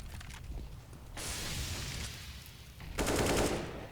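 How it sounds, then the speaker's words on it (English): Bursts of rapid gunfire in Counter-Strike: Global Offensive crackle in two loud stretches, separated by a quieter moment of distant shots and rumble, during a competitive match on the Banana area. "plenty of gunfire being exchanged down Banana"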